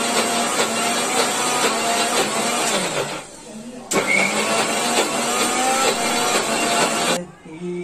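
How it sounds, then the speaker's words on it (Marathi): Kitchen mixer grinding Malvani masala paste with a little water, a loud steady whirring motor that runs for about three seconds, cuts out briefly, then runs again for about three seconds before stopping. "तर थोडंसं पाणी टाकूया आणि मिक्सर लावून घेऊया."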